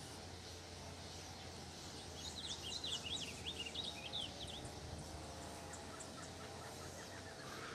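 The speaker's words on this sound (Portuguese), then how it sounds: "Tem um passarinho que canta parecendo azulão surdina, né?" A small songbird sings a quick run of chirpy phrases at middle distance, over a steady background hum and hiss.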